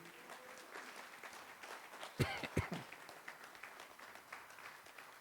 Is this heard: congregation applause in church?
yes